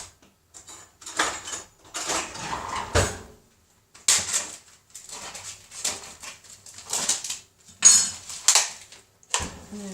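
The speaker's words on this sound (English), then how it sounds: "So I'm going to give my frying pan a bit of a spray. Then I'm going to add to that some mince." In a home kitchen, cutlery and pan clatters and scrapes come in bursts as a frying pan is sprayed with oil and minced meat is added, close and intermittent with brief pauses.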